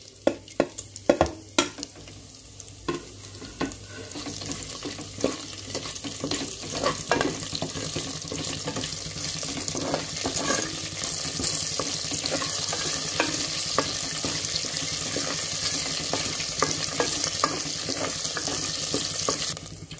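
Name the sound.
whole spices frying in oil: cinnamon, cardamom, cloves, pepper, mace, shahjeera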